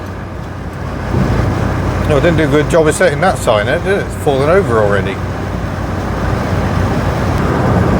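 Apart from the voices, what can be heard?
Perodua car driving on motorway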